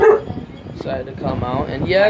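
A small dog barks a few times indoors, short yips scattered under a man's nearby speech.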